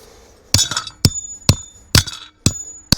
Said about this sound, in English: I just remembered as I was trying to hammer that in like that